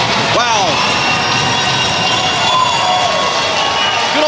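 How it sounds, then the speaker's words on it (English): At an ice hockey game, the crowd roars in a steady, loud wall of cheering during a fight on the ice. A commentator talks over the noise. "this has got the crowd fired up"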